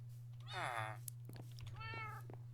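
Two clear cat meows from a Minecraft cat, a longer wavering call then a shorter one a second later, over a steady low game hum with a few soft clicks between.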